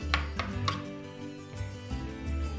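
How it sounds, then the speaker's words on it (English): A knife chops a white onion on a cutting board in a kitchen, several sharp close knocks in a quick uneven rhythm, with no talking. "Now we have our onion and we're ready to start chopping."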